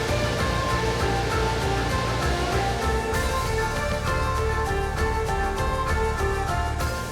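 A creek in a forest runs smoothly over rocks, a steady, full rushing wash of water heard close and constant, with no voices over it.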